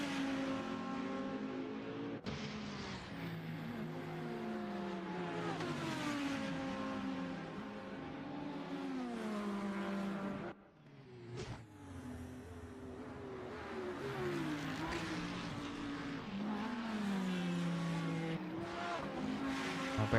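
Audi race car engine in a sim racing game at Interlagos, a loud continuous howl that rises and falls through gear changes for about twenty seconds, briefly cutting out near the midpoint.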